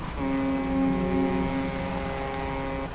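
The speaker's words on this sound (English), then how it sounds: "here's the horn" A fishing boat's horn in the video game Dredge sounds as a steady, tonal low drone lasting over two seconds, loud and close, with no talk over it.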